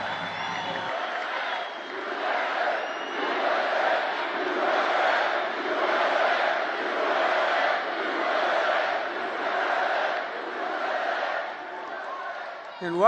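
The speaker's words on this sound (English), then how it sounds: "I gotta say, that crowd's pretty loud." A big election-eve 2024 rally crowd cheers and chants loudly in rhythmic surging waves, sustained throughout, with a short voice at the start and end.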